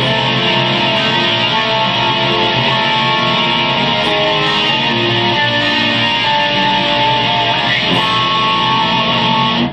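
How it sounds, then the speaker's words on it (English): Sustained electric guitar chords washed in a swirling, swooshy chorus effect, steady and fairly loud, ringing on without pauses. "So here's a really swooshy chorus sound"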